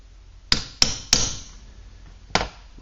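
Four sharp metal hammer strikes ring out, three in quick succession and a fourth after a pause, close and alone, while a penny-farthing bicycle saddle is being made.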